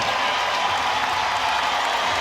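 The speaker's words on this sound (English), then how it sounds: "Hear the applause" Steady crowd applause fills the space at a South Carolina vs. Coppin State women's college basketball game, a dense wash of clapping that holds evenly throughout without pause.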